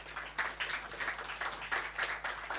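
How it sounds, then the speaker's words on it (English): A modest audience applauds a speaker after a talk, clapping in loose rhythmic bursts against a faint low hum, fairly soft and steady for a few seconds. "Let's give him a round of applause."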